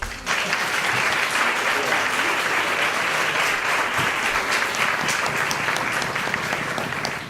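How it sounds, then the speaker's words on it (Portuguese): Sustained applause from a seminar audience honoring a lecturer at a bioethics colloquium, steady and dense clapping from start to finish with no break. "Convidamos a todos para saudar uma vez mais o palestrante com uma salva de palmas"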